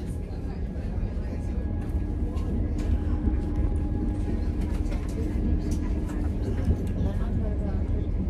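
Train ride into Birmingham, a steady low rumble of a moving passenger train heard from inside, continuous and moderate, with people talking over it.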